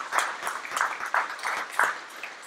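Audience applause at the Belmont Middle School grand opening: a crowd clapping in steady, moderately loud waves for a couple of seconds with no talk over it.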